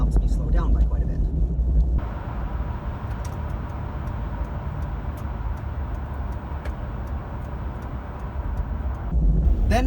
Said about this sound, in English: First, you can see me disable overdrive, putting the vehicle into 3rd gear. This raises the RPM and helps me slow down by quite a bit.